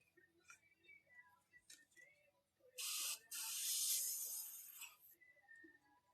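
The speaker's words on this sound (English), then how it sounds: "Now I'm just bumping the trigger of the airbrush back and forth, and I'm always moving the airbrush." An airbrush sprays paint in bursts as its trigger is bumped back and forth: a loud, airy hiss appears in two main blasts, one short and one longer, over a quiet background with faint clinks.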